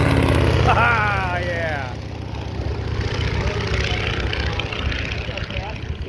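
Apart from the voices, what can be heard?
Stearman biplane flyby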